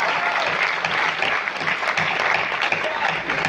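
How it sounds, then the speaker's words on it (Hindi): Audience applause at a poetry recitation in Indore, a thick burst of clapping from a crowd, loud and sustained with faint voices mixed in. "चलिए तालियां बजाइए"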